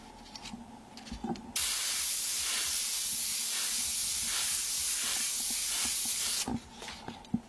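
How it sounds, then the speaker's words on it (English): A wide aerosol spray is applied across two rolls at once, one sustained hiss lasting several seconds, preceded and followed by quieter handling sounds and small clicks. "Do both sides at the same time, just a wide spray so it gets on both rolls."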